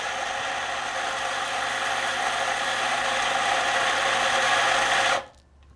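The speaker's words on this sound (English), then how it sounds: "I'm just going to grind right into here" A Macap M6D espresso grinder grinds coffee beans into a dosing cup, a steady dense whirring buzz held close and loud for about five seconds before cutting off abruptly into quiet.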